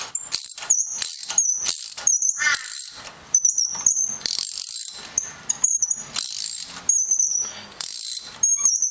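A socket ratchet clicks rapidly in bursts while loosening a tight, long-unchanged spark plug on a 2001 Honda Civic, with close, sharp metallic ticking and short pauses between strokes.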